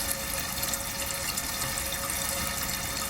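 A toilet tank refills after its fill valve has been replaced, water hissing and rushing in a steady, continuous wash close by with no talking.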